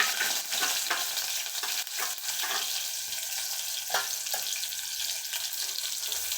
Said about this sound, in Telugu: ఆయిల్ వేడి అయింది ఫ్రెండ్స్. ఇదిగో కట్ చేసిన ఉల్లిగడ్డలు వేసుకుందాం ఫస్ట్.